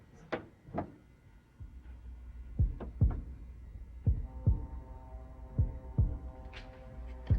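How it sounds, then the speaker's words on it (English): A pulsing heartbeat throbs in paired low thumps, repeating steadily over a deep hum, with a few earlier soft knocks at the start. "It sounds like a heart beating."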